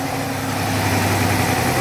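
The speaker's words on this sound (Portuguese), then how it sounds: "Esse é aquele motor 352." A Mercedes 352 diesel engine runs steadily on a dynamometer, a loud, even idle with a deep hum and constant drone throughout.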